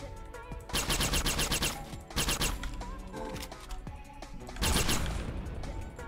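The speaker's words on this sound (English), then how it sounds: "Wow, that was quite an explosion behind me." A loud explosion in the video game Howler bursts out in rough, crackling blasts, three heavy surges over about six seconds, with game music underneath.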